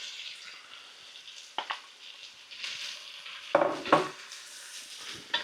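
Diced sweet potato chunks tip into a pan of sizzling bacon, a steady fry hiss broken by a few sharp clatters and scrapes of stirring against the pan, close and moderately loud.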